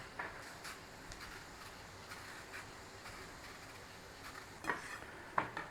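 Onion and leek are stirred gently in a pan with a utensil, producing quiet scraping and soft sizzling, with a few sharper clinks of metal against the pan near the end.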